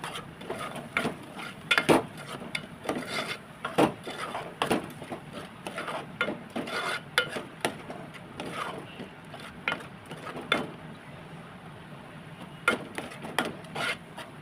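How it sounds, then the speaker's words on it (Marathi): Ground masala paste sautéed in oil for a puri matar paneer bhaji, heard as scraping and tapping of a spatula against the pan with soft sizzling beneath, irregular knocks throughout, close and moderately quiet. "वाटलेलं वाटण आहे ते छानपैकी तेलामध्ये परतून घ्यायचं व्यवस्थित"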